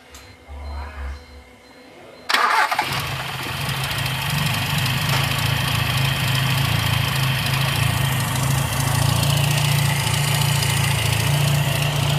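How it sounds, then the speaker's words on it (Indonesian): A Toyota Kijang with a 5K engine idles just after carburetor service, starting up loudly about two seconds in and then running as a steady, rough low rumble at close range, with no one talking over it. "Coba Mas Udin dinyalakan, dari karburator sudah terpasang."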